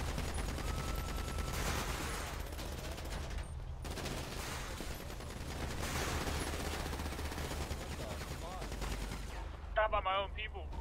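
Gunfire in GTA roleplay, rapid bursts of automatic fire and crackling shots filling the clip almost continuously, loud and close, with a voice shouting briefly near the end.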